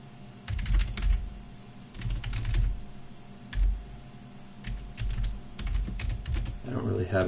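Keystrokes on a computer keyboard while writing Scala code, coming in short bursts of clicks with pauses between, close and moderately loud, over a low background hum.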